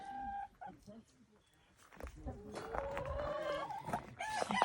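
Hens and a rooster clucking and calling outdoors around a cage of baby chicks, intermittent calls near the microphone at first, then a busier mix of clucks and bird sounds toward the end, with some soft background voice.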